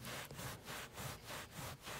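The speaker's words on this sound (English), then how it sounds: "But I think on this one I'm going to have to kind of rub it because it's going to dry pretty quick." Marker-stain cleaning solution being rubbed into carpet by hand, heard as brisk, steady back-and-forth scrubbing strokes, about six in a row, close and even, with no talking.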